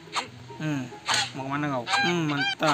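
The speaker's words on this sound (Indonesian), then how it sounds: "Ada ayam lagi, lumayan mantap." Dodo birds from the mobile game Ark Survival squawking in a series of honking, goose-like calls, several bursts close together, while someone speaks briefly.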